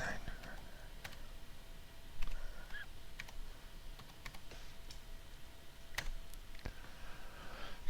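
Typing a password on a computer keyboard produces a sparse series of sharp key clicks at an irregular pace, close and fairly quiet, with a faint murmur of background sound between presses.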